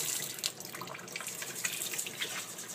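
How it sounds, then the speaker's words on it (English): Water runs from a tap turned to a low flow, used to rinse a bantam Polish chicken before a show. The pour is a steady, close hiss with small splashes and no voices. "what I usually do is I will turn the water on low"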